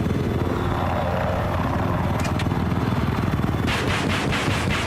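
Attack helicopter in a video game hovering with a steady, loud rotor thrum and engine drone, with a brief burst of rapid chopping pulses near the end; no talking.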